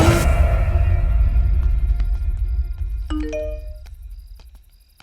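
A ding-dong doorbell chime rings out over a low rumbling background, its tones sounding and decaying as the rumble fades.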